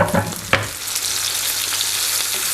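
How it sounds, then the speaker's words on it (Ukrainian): Bell peppers fry in a pan with garlic and herbs, giving a loud, steady sizzle with a few sharp stirring scrapes near the start. "В кінці смаження додаю подрібнений часник та зелень. Перемішую та знімаю з вогню."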